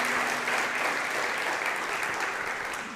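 Church congregation breaking into applause during a sermon, clapping together to honour members who worked at a parish fair; dense, steady clapping that fills the room and tapers slightly at the end.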